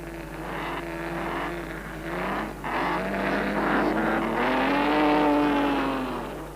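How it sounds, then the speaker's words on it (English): A 1930s Alfa Romeo racing car pulls into the pits for fuel and tyres. Its engine note rises and falls steadily at a moderate distance, with no voices alongside. "Antonio Brivio brings his Alfa Romeo into the pits for fuel and tyres."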